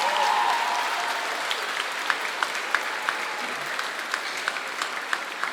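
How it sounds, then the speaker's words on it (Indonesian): An audience at a Good Friday passion play claps together, a dense burst of applause that gradually thins into scattered individual claps over several seconds. "Tepuk tangan buat Yesus kita."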